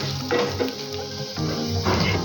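Spices and red chili powder sauté in a pan for a drumstick (shevga) curry. Steady sizzling runs under scraping stir strokes and light clinks of a spoon against the pan, with no voice.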